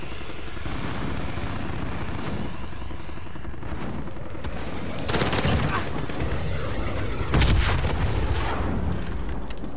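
Bursts of gunfire aimed at a VTOL aircraft in Modern Warfare gameplay, with heavy rumbling background, sharp loud volleys around five and seven seconds and a low continuous roar between them.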